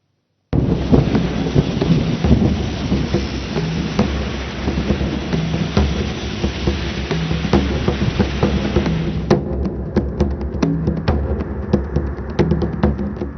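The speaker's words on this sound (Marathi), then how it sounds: "मुसळधार पावसामुळे कुठे वाहनं पाण्याखाली गेली" Heavy monsoon rain in Pune pours steadily and loudly, a dense continuous roar with occasional sharper drips and splashes close by.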